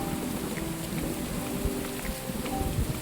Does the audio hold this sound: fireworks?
no